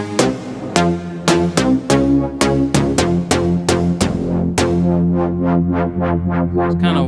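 A synthesizer plays a plucky melody of bright, harmonically rich notes with a wavering tone. The last notes swell and fade softly, with no voices.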